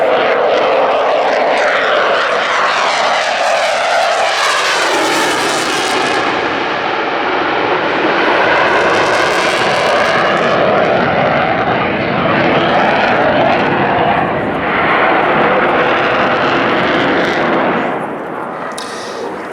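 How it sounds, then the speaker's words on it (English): A fast jet powered by twin Snecma M88 engines flies past at the Duxford Air Festival, a loud, continuous roar with a shifting, rushing texture that holds throughout and eases slightly at the very end. "The engine's a pair of Snecma M88."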